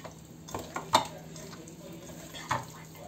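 Chicken being stirred with garam masala and spice powder in a bowl for Chicken 65, soft scraping and a few sharp clinks of utensil against the bowl, close and quiet.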